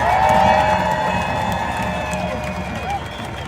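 Protest crowd at a Los Angeles Hands Off rally cheering and shouting loudly, a dense roar of voices that fades slightly over a few seconds, with whistle-like squeals mixed in.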